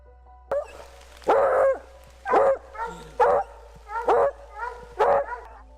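Hunting hounds barking in a forest during a wild boar hunt, six or seven loud, close barks and yelps in quick irregular succession.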